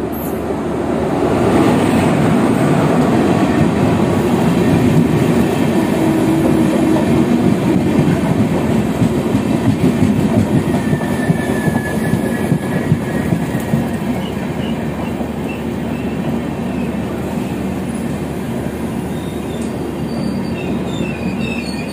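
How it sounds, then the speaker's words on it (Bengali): An express train rolls into Lucknow junction, a loud continuous rumble of wheels on rails with rhythmic clacking and faint squeals, heard from inside the carriage with no talk. "আমাদের ট্রেন ঢুকছে লখনউ জংশন।"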